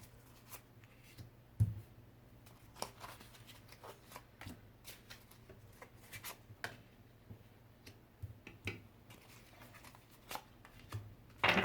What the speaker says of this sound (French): Là, les cartes glissent.